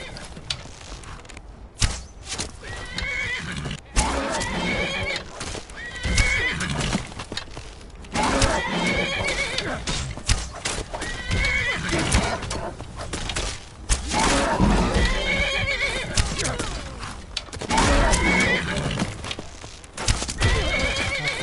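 In the Skyrim video game, a horse whinnies repeatedly amid clip-clopping hooves and thumping combat noises, the loud neighs recurring every few seconds.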